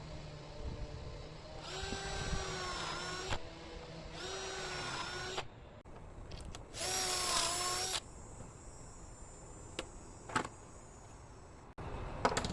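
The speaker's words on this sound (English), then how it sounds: "Now I can go ahead and set up and drill the holes, the pocket holes in" A power drill whines through three bursts of a few seconds each, boring pocket holes into a wooden shelf. Each burst spins up, holds a steady high pitch and stops, with quiet handling clatter between them.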